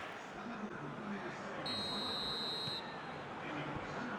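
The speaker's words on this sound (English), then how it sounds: "Whistle goes, and we start the second half." A referee's whistle sounds once, a single sustained blast lasting about a second, starting the second half of a Euro 2024 football match between Spain and Italy, heard under crowd noise and commentary.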